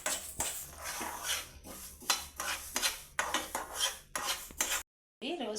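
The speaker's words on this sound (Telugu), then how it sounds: "1 స్పూన్ మెంతులు రోస్ట్ చేసుకోవాలండి, డ్రై రోస్ట్ చేసుకోవాలి" Fenugreek and mustard seeds dry roasting in a pan rattle and scrape as they are stirred, a close, repeated scratchy clatter with brief pauses and no speech.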